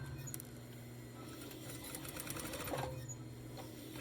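Sewing machine stitching an invisible zipper along the seam edge of a throw pillow made from a table runner, a steady close whirring run with a brief change in pitch near the end.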